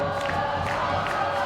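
High school girls' basketball student section in a tournament gym, a dense crowd roar of cheering and shouting that stays loud and sustained throughout.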